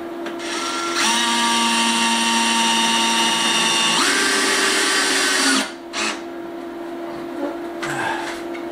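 A power drill drives screws during a DIY solar power upgrade, with two long, loud whining runs at steady pitch, a shift in tone midway, then brief short bursts near the end.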